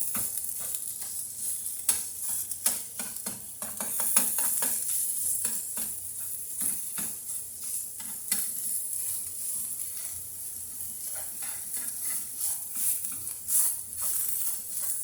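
Jimmy Dean sausage crumbled and browned in a pan for sausage gravy, giving a steady sizzle punctuated by frequent spatula scrapes and taps, close and continuous.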